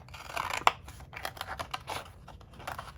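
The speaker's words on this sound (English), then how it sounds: "Okay, and then we're gonna turn it this way and cut." Scissors snip through paper while a small child helps cut out a Valentine's card, giving several close, crisp cuts and light paper rustling, with a sharp snip near the start.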